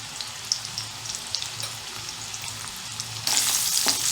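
Onion fries in a pan with a steady close sizzle and a few stirring scrapes, and the sizzle grows louder and brighter near the end.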